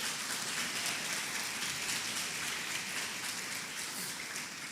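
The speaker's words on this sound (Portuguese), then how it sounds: "Então aplauda o Senhor essa manhã." Morning church congregation clapping in a dense, hissing wash of many hands, steady and fairly soft, sounding almost like heavy rain without any distinct individual claps.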